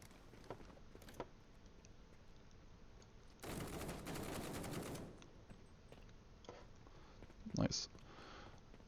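Rapid automatic gunfire from guards rushing the player in a video game combat encounter, a dense burst of shots lasting about a second and a half, with a few scattered single shots before and a sharp crack near the end.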